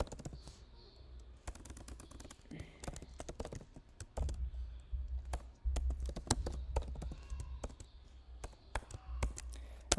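Fast, continuous clicking of a computer keyboard as code is typed for an Android Studio Kotlin project. The key presses are close and fairly loud, with no talking.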